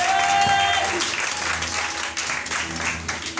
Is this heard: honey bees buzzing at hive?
no